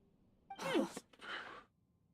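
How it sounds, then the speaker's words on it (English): A single faint sneeze, a sharp intake followed by a quick burst, from someone gaming on a stream. "Oh, sorry, I had to sneeze."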